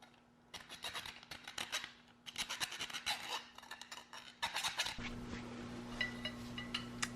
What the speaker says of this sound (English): I'll take a file and deburr that just a little bit